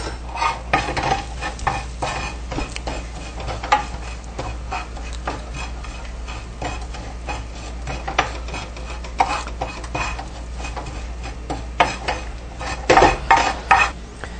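A spoon stirs rice with spices, including asafoetida, in a metal pot. Close, irregular scrapes and clinks against the pot repeat throughout over a soft sizzle, with no one speaking.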